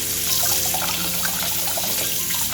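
Water runs steadily from a kitchen tap while green mangoes are cut for salad, a soft continuous splashing hiss with faint trickles, with no voices.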